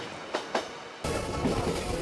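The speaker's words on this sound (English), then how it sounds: "the V train is a slowpoke with a top speed of only 30 kilometers per hour" A slow tourist V train runs on rails through inland Korea. Two faint clacks come first, then a loud, close rush of wheels and rumbling carriage noise takes over and holds steady.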